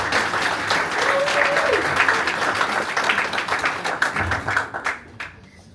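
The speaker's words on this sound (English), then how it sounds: "Can you guys clap it up for her?" Audience applause fills a stand-up comedy show: dense, steady clapping from a crowd that stays loud throughout, then thins and fades over the last second.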